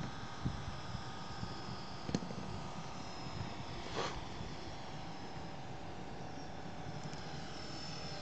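An Airtech Mezzo model aircraft comes in to land, heard as a steady distant propeller drone that stays fairly even throughout, with a few faint clicks and no talking.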